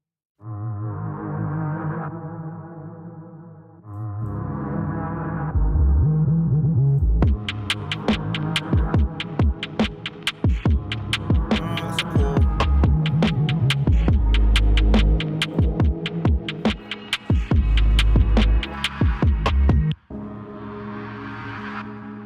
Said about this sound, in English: these strings. They sound pretty ominous